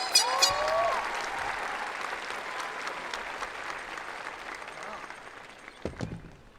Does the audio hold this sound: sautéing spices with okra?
no